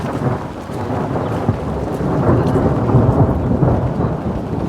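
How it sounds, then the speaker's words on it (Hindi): Thunder rolls from storm clouds over hill farmland, a deep continuous rumble that swells and fades with steady rain falling close by and no voices. "बादल बड़ी तेजी से गरज रहे हैं।"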